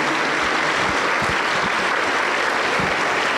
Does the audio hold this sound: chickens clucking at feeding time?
no